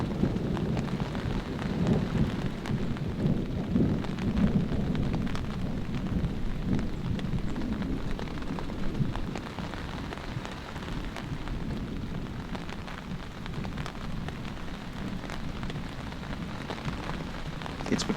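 Steady rain patters on a surface at a mountain campsite in the fog, with low rumbles of a passing thunderstorm nearby, continuous and fairly even throughout with a slight drop in level midway.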